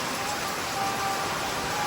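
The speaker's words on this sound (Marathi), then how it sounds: "यावर्षी पाऊस गणपतीला जाम पडतोय आणि गाजवतोय तुम्हाला दिसत असेल हा पाऊस बघा" Heavy monsoon rain pours down during the Ganesh festival season, a dense, steady hiss that fills the whole moment with no letup.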